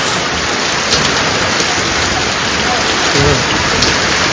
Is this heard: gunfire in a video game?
no